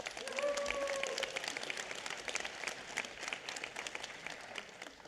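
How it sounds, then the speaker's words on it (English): Audience at a Los Angeles County Board of Supervisors meeting claps in a steady, dense patter for several seconds, with a brief tonal voice or whistle early on, fading slightly toward the end. "Let's give him a round of applause."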